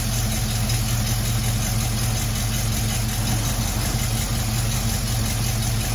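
A 1974 AMC Javelin's engine idles loudly and close by, a steady, even rumble with no revving.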